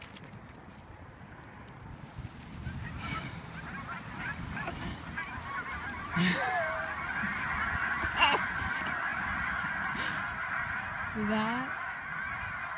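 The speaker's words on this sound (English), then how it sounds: "Hey, you see those geese?" Several geese honk in loud bursts outdoors while a dog chases them, the calls rising over a steady background hum, with a voice speaking briefly.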